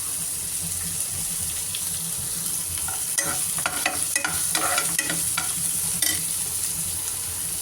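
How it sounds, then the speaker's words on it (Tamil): Onions and green chilli sautéing in a pan make a steady hiss of frying. In the middle stretch, a burst of quick spatula scrapes and clinks stands out, close and with no voices. "வெங்காயம் நல்லா வதங்கணும். நல்லா வதங்கினதும் பச்சை மிளகாய்,"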